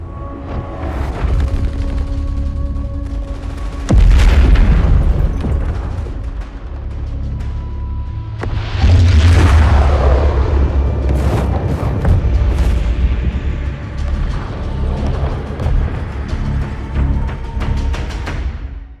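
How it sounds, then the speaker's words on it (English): Explosions and fighting across the airport in Call of Duty Warzone's Verdansk: heavy booms and blasts layered with distant gunfire and rumbling, loud and dense throughout with no talking. "we see fighting and explosions all across the airport and Verdansk in the background"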